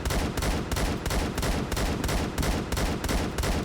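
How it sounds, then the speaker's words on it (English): Sustained automatic gunfire from a zero-recoil gun in the shooter game Phantom Forces, a rapid unbroken stream of loud shots with short bursts, close and dense for the whole stretch with no talk. "Like, I'm just shooting forever."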